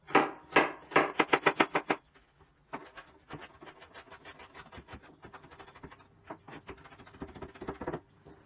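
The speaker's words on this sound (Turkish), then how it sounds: "Limon sosum için soğanlarımızı da bulmaz şekilde doğruyoruz." A knife chops onions finely on a board for a lemon sauce, giving a quick burst of sharp close taps, a pause, then a longer run of softer, steady rapid cuts.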